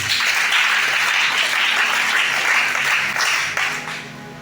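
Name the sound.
church congregation applauding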